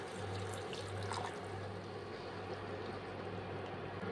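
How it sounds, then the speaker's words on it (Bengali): About a cup of water poured into a pan of cauliflower shrimp curry, a continuous soft splashing pour that stays fairly quiet and steady, with no speech. "এবার একটু জল দিয়ে দিচ্ছি, 1 কাপ মতন জল দিয়ে দিচ্ছি"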